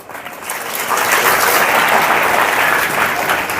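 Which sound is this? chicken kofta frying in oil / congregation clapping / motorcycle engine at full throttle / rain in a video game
congregation clapping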